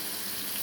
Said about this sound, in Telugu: కొంచెం వాటర్ వేసుకున్నాం అండి